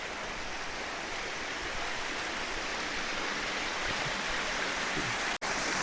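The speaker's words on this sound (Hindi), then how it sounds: "कितना सुंदर प्राकृतिक झरना चल रहा है, ऐसा लग रहा है मानो बरसात हो रही है।" A natural mountain waterfall pours steadily into a brimming rock pool near a hilltop shrine, a dense, unbroken rush like heavy rain that stays loud and close throughout, with no voices.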